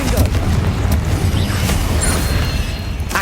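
A Confringo blasting curse erupts in the game Hogwarts Legacy during a cave fight with spiders: a loud, dense burst of roaring, crackling noise held steady for about three seconds, with a low rumble underneath.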